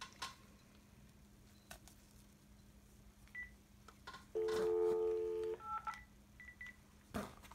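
Electronic telephone tones sound at moderate volume, with a sustained steady ring-like tone of about a second standing out among short beeps over a quiet room in a craft space.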